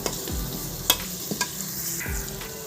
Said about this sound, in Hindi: प्याज यहाँ पे जो है ना थोड़े से सौते हो गए हैं। तो इसमें मैंने नमक, मिर्च और हल्दी डाल दी है।